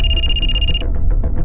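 A telephone rings loudly and close for an incoming call, with a steady shrill electronic trill lasting under a second that then cuts off, leaving low background rumble.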